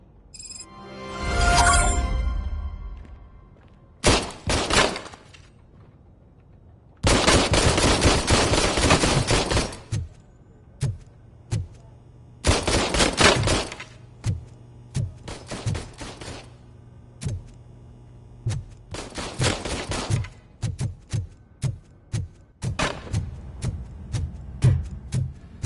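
Game-style gunfire from a handgun in a comedic cop scene, delivered as several separate loud bursts and sharp single shots with silent gaps between them and no talk over them.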